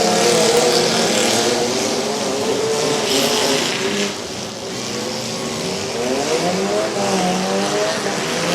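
Demolition derby cars at a county fair revving hard on a dirt track, a loud continuous roar of engines with rising and falling pitch sweeps and some tire noise, with no crash impacts evident.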